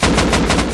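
Rapid automatic gunfire in the video game Rust during a player-versus-player fight, loud and close, with fast repeated shots packed into under a second.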